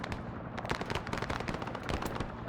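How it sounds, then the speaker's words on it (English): Sustained automatic fire from a helicopter's door-mounted M60 machine gun in the Vietnam War game SOG, a dense, continuous rattle of rapid shots with sharp cracks over a steady roar. "the helicopter, the M60, door-mounted guns that are on the helicopter"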